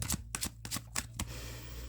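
Tarot cards shuffled by hand, close and crisp: a quick series of five or six sharp riffling bursts in uneven rhythm, trailing off into a faint soft rustle.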